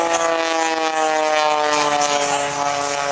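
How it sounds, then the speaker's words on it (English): Propeller airplane performing at the 2021 Dayton Airshow, a loud, steady droning engine tone with a harmonic hum holding across the whole stretch, heard from nearby. "Place himself down on Chris Darnell, then picks up altitude, then rolls his airplane"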